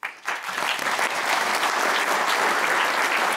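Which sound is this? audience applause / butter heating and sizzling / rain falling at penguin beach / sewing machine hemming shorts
audience applause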